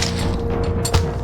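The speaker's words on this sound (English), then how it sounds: "Explosion." A Legacy of Kain video game explosion goes off as a loud broadband boom with crackling debris over a constant droning game background, peaking sharply near the end.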